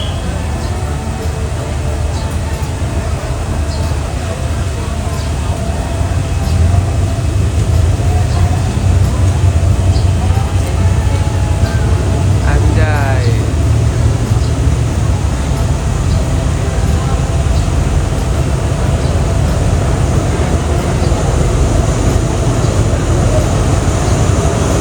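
An old locomotive hauls a Thai local economy train, a steady loud rumble of rolling wheels and engine that swells partway through, with a brief squeal of metal, and voices talking over it.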